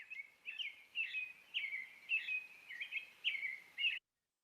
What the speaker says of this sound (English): The American robin is another common bird that you have probably all heard